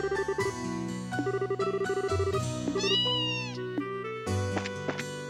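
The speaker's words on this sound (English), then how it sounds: "Meow." Cartoonish cat meows in the video game Trails in the Sky, several distinct meows over a bright, chiming background music track, close and clear with no talking.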